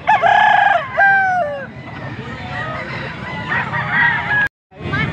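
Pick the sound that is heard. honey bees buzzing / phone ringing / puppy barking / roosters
roosters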